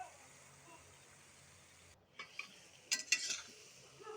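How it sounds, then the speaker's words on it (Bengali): Bottle gourd leaves and shrimp stirred in a pan: quiet frying hiss at first, then a few scraping utensil strokes and clinks against the pan near the end. "এই তো আবারও একটু নেড়ে চেড়ে নিব।"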